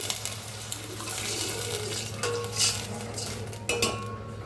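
Water pours steadily into a pan of moth beans, a continuous close splashing rush with a few clinks of the pan and utensil.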